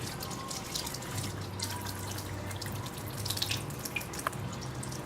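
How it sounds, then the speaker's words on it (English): Tap water runs steadily into a sink while a fetal pig's opened body cavity is rinsed out, giving a continuous close splashing rush with faint dripping and trickling changes and no voices. "as soon as I get that cavity open, I would probably take it to the sink and wash that out really good"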